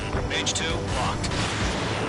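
A missile launches from a fighter jet in the Ace Combat flight game: a loud, steady broadband roar and rush of exhaust that fills the whole two seconds without pause, with faint radio chatter mixed underneath.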